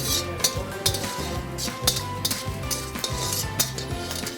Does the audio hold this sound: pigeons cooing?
no